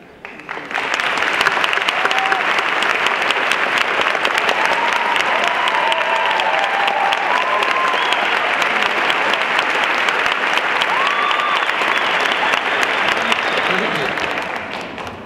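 An audience applauds steadily at a St. Petersburg College graduation ceremony, dense clapping from a large crowd sustained for about fifteen seconds with faint cheers and voices mixed in before it tapers off.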